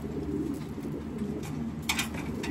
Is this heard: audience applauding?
no